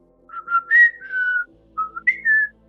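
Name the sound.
person whistling a special whistle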